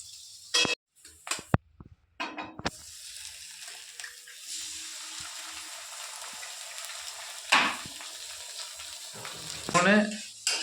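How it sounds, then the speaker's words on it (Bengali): Eggs frying in a pan on a gas stove, a low steady sizzle under several loud bursts of clatter and handling noise. "মানে এখন ডিম ভাজা হচ্ছে গ্যাসে।"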